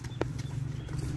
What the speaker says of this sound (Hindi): तो अभी हम फिलहाल घोड़े को त्राट में चलाएंगे